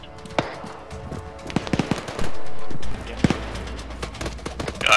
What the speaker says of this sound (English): enemy technicals coming in from the south, say engaging again with 50 cal fire